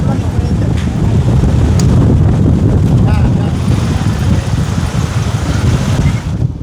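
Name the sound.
strong wind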